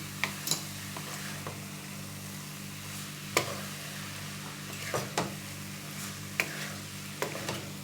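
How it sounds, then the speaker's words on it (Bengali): Motichoor laddu mixture of gram flour, cardamom and ghee is stirred in a pan over a low gas flame, with a soft continuous sizzle and intermittent clicks and scrapes of the spoon. "গ্যাসের ফ্লেমটা কমিয়ে দিয়েছি দিয়ে দু মিনিট নেড়ে নিচ্ছি"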